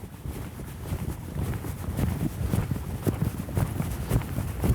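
A horse's hooves pick up pace outdoors, a quick, uneven clip-clop of footfalls under gusting wind noise on the microphone, moderately close, with no talking.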